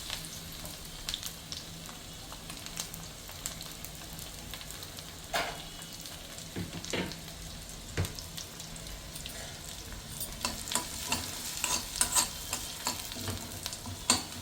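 Finely chopped onion sizzles in a pan and is stirred now and then for a drumstick-leaf egg stir-fry, a soft, steady frying hiss broken by scraping and clinking stirring strokes, close and fairly quiet.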